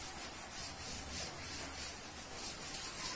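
Writing being rubbed out during a biology class lesson: a continuous soft scrubbing with a gentle back-and-forth rhythm, faint and steady with no speech over it.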